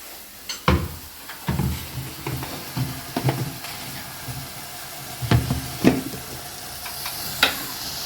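Food sautés in a pan as it is cooked before curd is added, giving a steady frying sizzle with scattered clinks and scrapes of stirring, close and moderately loud, with no talking.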